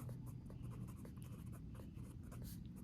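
Pen writing an answer in a workbook makes a soft continuous scratching with short repeated strokes, close and quiet over a low steady room hum.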